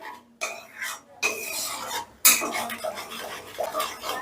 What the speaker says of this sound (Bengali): এবারে কিন্তু দইটা মশলার সঙ্গে বেশ ভালো করে আগে মিশিয়ে নিতে হবে